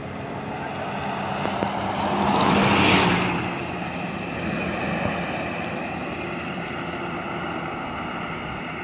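An Indotrans bus passes on the road, its engine and tyre roar swelling to a peak then fading into a steady drone, with wind buffeting the microphone.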